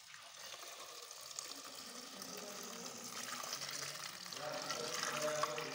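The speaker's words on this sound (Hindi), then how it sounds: "अब इनमें पानी भर देता हूँ, जिससे इनमें अगर कुछ गंदगी हो सब साफ हो जाए।" Water runs into a pot of mulberries, starting faint and swelling into a steady, gushing fill as the vessel fills up.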